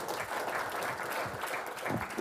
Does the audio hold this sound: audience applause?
yes